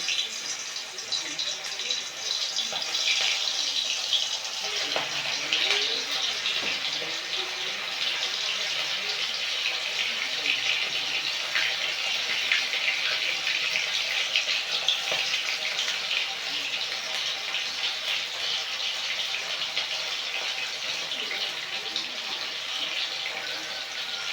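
Loitta (Bombay duck) fish fritters fry in hot oil, giving a steady, dense crackling sizzle that holds evenly throughout at close range.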